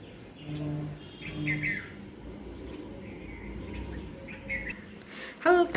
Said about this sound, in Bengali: হালকা পাখির আওয়াজ আসে